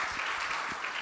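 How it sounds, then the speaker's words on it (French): Audience applause after the first session of an oncology conference, a steady dense wash of clapping from a full hall with no voices over it. "applaudissements pour cette première session."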